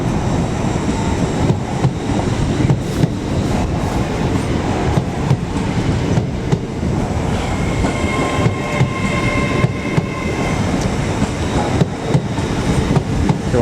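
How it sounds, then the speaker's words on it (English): British Rail Class 801 unit 801-205 on an LNER Edinburgh to London King's Cross service passes at Doncaster on the East Coast Main Line. A loud, continuous roar carries rhythmic wheel clatter and a brief high squeal partway through. "801-205 on another North Eastern Railway service from Edinburgh to London King's Cross"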